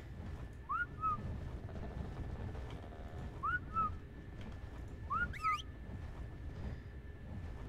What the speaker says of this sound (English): Now whistle them, Nitz.